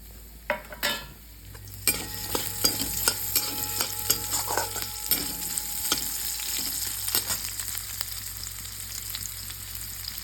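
Sliced onion, curry leaves, turmeric and salt fry in a pan with a close, steady sizzle, broken by a few sharp clinks and scraping stir strokes, with no talk.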